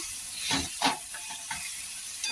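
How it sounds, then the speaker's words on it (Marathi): Masala sautéing in a pan for a dry moong dal dish, a soft steady sizzle and hiss with a few brief stirring scrapes rising above it, fairly faint and close, without any voices. "मसाला आता परतून घेऊ"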